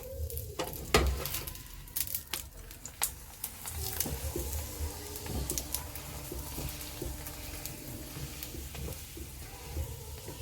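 Loitta fish paratha frying in oil on a griddle (chatu), a soft continuous sizzle with intermittent scraping and tapping of a spatula, close by and without speech.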